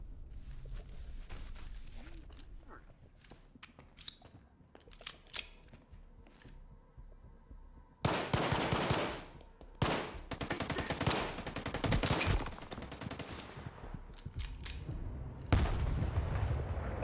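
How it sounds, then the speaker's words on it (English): Gunfire in the video game S.T.A.L.K.E.R. 2, with scattered sharp shots early on and then a dense, loud burst of rapid firing from about the midpoint, mixed with game ambience. "I like the shooting so far."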